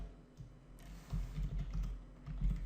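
Keys clatter on a computer keyboard in steady, close typing that grows busier midway, with no talk over it.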